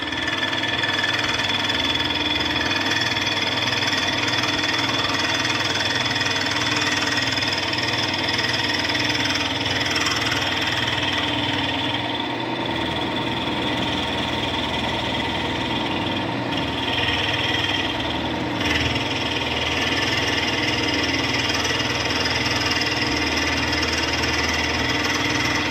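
A machine cuts into a part for a P&M Research 1B1 steam engine, held by bed plate bolts, giving a steady, loud mechanical hum and whir that runs unbroken with a slight shift midway.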